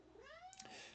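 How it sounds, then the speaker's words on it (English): A house cat gives a single drawn-out meow with a rising, then falling pitch. It sounds faint and fairly close, with no talking. "If you hear any meowing, it's just my cat."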